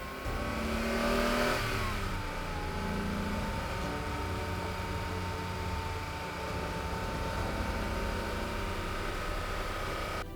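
A DeLorean car drives past at close range with its engine revving. A steady mid-pitched engine drone swells near the start and then runs on evenly, with no voices.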